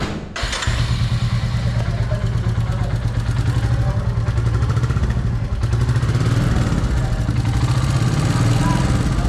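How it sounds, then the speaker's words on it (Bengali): A Royal Enfield Classic 350 motorcycle fresh from its first 500 km service runs close by, a loud steady single-cylinder thump with mechanical clatter that holds evenly throughout, with a voice briefly over it. "ফাইনালি আমাদের বাইকটা সার্ভিস শেষ তো সার্ভিসের পরে সাউন্ডটা কেমন হয় একটু শুনবো"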